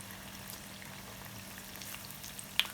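Potatoes fry for batata vada in a quiet, steady bubbling of oil, soft and close, with a small sharp pop near the end.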